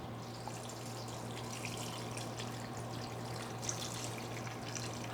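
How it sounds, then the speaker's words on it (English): Broth being poured into a hollowed, stuffed winter melon for soup; a steady, continuous liquid pour with splashing and trickling, close and moderately quiet, with no talking. "Now I'm going to pour the broth in."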